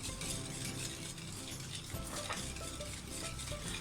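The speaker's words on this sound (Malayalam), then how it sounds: "ഇനി ഇതെല്ലാം കൂടി നന്നായിട്ടൊന്ന് മിക്സ് ചെയ്യാം" Rice water, rice flour, sugar and salt are stirred together as a halwa batter, giving a continuous soft swishing and scraping in a pot with faint clinks of the utensil, close and steady, no talking.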